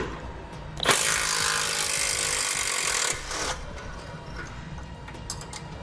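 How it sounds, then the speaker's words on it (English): Power tool removing a 13 mm bolt from the core support beneath the bumper beam of a 2016 Jeep Grand Cherokee: a loud, steady whirring burst of about two seconds, then a shorter buzz and quieter clanks of tools. "there's a 13 millimeter bolt that we need to remove."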